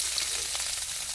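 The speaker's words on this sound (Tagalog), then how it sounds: "pamamantikain natin para mas masarap tingnan at para mas lumambot" Food fries in hot oil in a pan with a dense, close crackling sizzle that holds steady throughout the brief moment.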